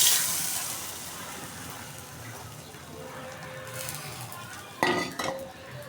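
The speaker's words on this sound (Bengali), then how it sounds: "এখানে কড়াইতে তেল দিয়ে দিচ্ছি। ডিমটা দিয়ে দিলাম।" Beaten egg hits hot oil in a wok with a sharp burst of sizzling that quickly fades to a low hiss, followed by a couple of close metallic clanks of a utensil against the pan.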